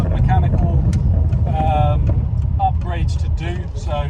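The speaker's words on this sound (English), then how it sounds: "the Magnex exhaust on this is nice and subtle" A Ford Fiesta with a subtle Magnex exhaust drives along, its low engine rumble steady and prominent under a person's ongoing speech.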